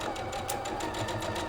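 A sewing machine stitches a Friendship Star variation quilt block, giving a steady close mechanical whir with a fast rhythmic needle patter throughout.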